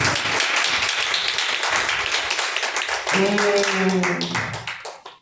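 A church congregation clapping for God during a service, sustained rapid applause with a voice rising briefly over it near the middle before the clapping fades out.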